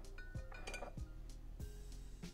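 A glass clinks lightly while someone takes a sip, several sharp close taps and clinks spaced unevenly over a couple of seconds, against a quiet room background.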